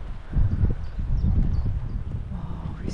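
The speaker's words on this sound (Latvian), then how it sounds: "Uz zirgu pajūdziņu brauc augšā." Horse-drawn carriage hooves clip-clopping steadily on a mountain road near Zakopane, fairly close and continuous, with a faint voice in the background.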